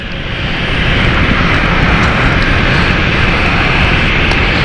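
A passenger jet roars steadily past while plane spotting at London City Airport, a loud broadband engine rush building in the first half-second and holding full and close for the rest.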